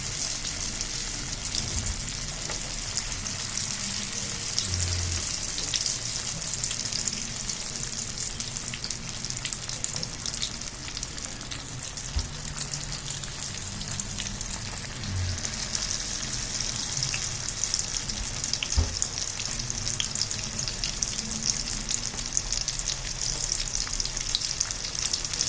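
Lumpiang shanghai spring rolls fry in darkened oil in a batch, producing a continuous, even crackling sizzle with faint pops across the whole stretch.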